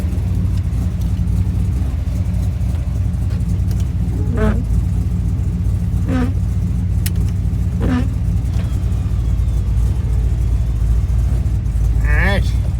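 A Chevy squarebody dually truck with a 468 engine drives along a runway, its low engine drone and rumble steady and loud throughout, with short bits of speech heard over it.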